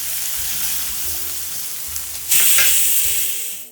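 Garlic, ginger and green chili paste sizzling and frying in hot oil in a pan for a Parsi dhansak, a steady crackle that bursts louder partway through, with faint stirring.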